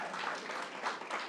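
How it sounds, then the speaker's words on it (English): Short burst of audience clapping at a New York state first responders funding announcement, moderately distant and steady with no voices over it. "You can clap for the Mets, right?"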